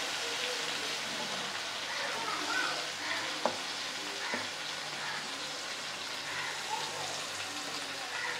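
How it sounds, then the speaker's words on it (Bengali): Marinated chicken is stir-fried in a pan in a busy eatery kitchen, with a dense, rain-like sizzle running steadily throughout and a couple of sharp spatula knocks standing out near the middle. "চিকেনটাকে একটু এবার ভালো করে কষানো হবে।"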